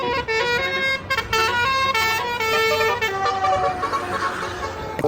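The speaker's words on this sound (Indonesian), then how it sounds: "ada bus telolet." A toy bus plays a telolet horn tune, a bright sequence of melodic honking toots with short pauses, loud and close throughout.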